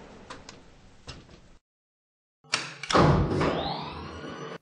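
Elevator doors in a Roblox game: a few soft clicks, a brief silence, then a sharp thud as the doors shut, followed by a rising mechanical whir.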